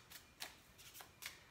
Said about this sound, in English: I am shuffling until I feel Spirit wants me to stop.